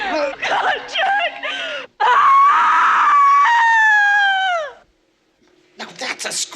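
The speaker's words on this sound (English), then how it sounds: "Now that's a scream!" A woman lets out a long, loud, wavering scream recorded for a film sound mix, preceded by frantic shouting and ending in a drawn-out wail, with voices talking afterward.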